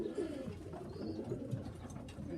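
Pigeons softly cooing at the loft, low murmuring coos, quiet and steady against faint background noise.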